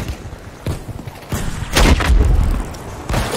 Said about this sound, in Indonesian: Wah, artileri, cuk.